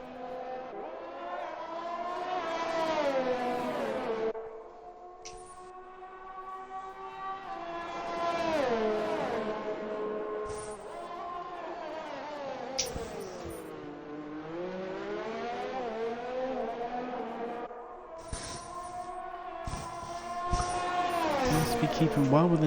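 Engines of race cars in an F1 racing video game rise and fall in pitch as cars pass through the laps, a sustained whine under continuous commentary.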